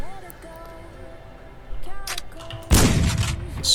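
A gun in the Gunnhildr video game fires, a sharp loud burst near the end that follows quieter interface tones and clicks.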